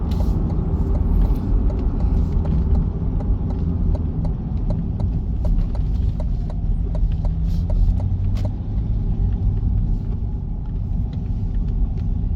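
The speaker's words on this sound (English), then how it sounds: "Here is the dealership we're pulling back into that's selling the vehicle." A 2020 Corvette Stingray with a 6.2-litre V8 and some upgrades rolls slowly into a dealership lot, its engine a loud, steady low rumble close by with faint clicks over the top.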